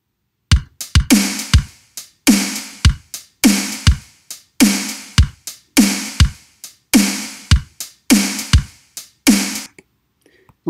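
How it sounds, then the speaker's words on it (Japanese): An isolated bass drum sample plays back in a music-production EQ demonstration, giving a run of punchy, evenly repeated hits in a steady groove that then stops. "こんな感じのベースドラム"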